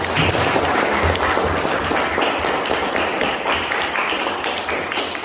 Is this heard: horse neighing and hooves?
no